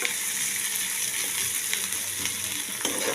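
Onions fry in a pan with a dense, even sizzle that is close and fairly loud, with a few faint scrapes underneath and no voices.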